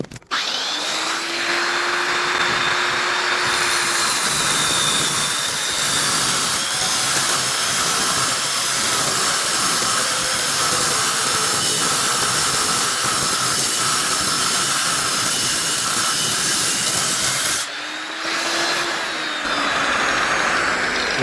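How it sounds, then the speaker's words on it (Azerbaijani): An angle grinder cuts into stone in one long, steady, loud whine that runs almost without a break, briefly dipping near the end before resuming. "Laqondanı işə salın."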